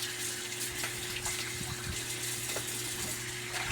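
Tap water running steadily into a basin as something is washed, a faint, even rush with a low hum beneath and no talking.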